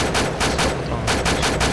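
Sustained automatic gunfire in the ArmA 2 military shooter as a player empties a final magazine, loud rapid bursts with a brief lull midway before firing resumes.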